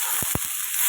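Onion, potato, salt and turmeric sizzle in a frying pan while being stirred, with a steady hiss broken by three quick, soft scraping thumps from the spoon.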